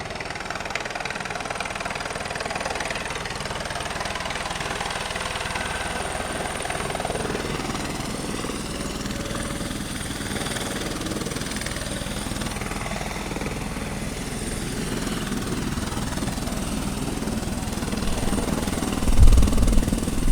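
A helicopter takes off at the Great Ocean Road in Australia with a continuous rotor and engine drone that holds steady for the whole stretch and swells near the end, fairly close, with no talking.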